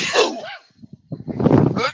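A single loud, close sneeze bursts out, followed after a short gap by voices talking.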